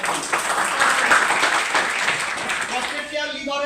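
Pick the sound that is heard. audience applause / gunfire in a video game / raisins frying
audience applause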